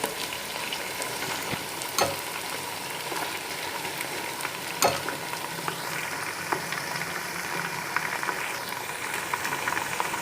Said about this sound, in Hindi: चिकन को 2 से 3 मिनट के लिए फ्राई कर लेंगे